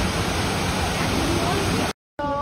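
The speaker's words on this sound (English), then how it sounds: "a gorgeous waterfall" Waterfall at Disney's Animal Kingdom near a gorilla habitat, a loud, steady rushing roar of falling water that cuts out abruptly near the end, followed by a short stretch of quieter outdoor sound.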